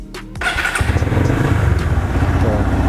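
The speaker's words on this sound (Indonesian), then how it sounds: "Kita coba nyalain nih motor Street Cup Verza ini." A custom Yamaha Verza street cup motorcycle cranks briefly, catches and settles into a loud, close, rhythmically thumping idle that pulses steadily to the end.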